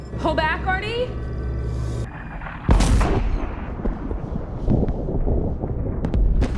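Heavy weapons firing at Earth in a science-fiction movie scene about a Mars mission, loud booming blasts and rumbling impacts with a sudden strong burst midway, under a person talking.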